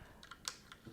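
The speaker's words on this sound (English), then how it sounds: "I'm gonna switch out right now using this tool here to pull out the keys" A keycap puller prying caps off a HyperX Alloy FPS mechanical gaming keyboard makes a few sharp plastic clicks, close and crisp, with a louder snap at the end.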